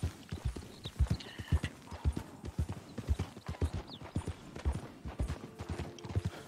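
Horse hooves clip-clopping in Red Dead Redemption 2, a steady rhythmic walking gait of hoofbeats, fairly quiet and continuous, with faint game ambience.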